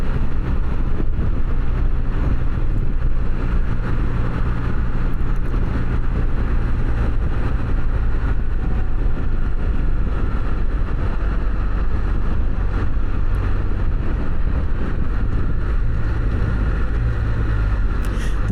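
A Can-Am Spyder three-wheel motorcycle on new tires rides along a road with a steady, loud rumble of engine and road noise, heavily mixed with wind buffeting the microphone. The sound runs on without a break and there is no speech.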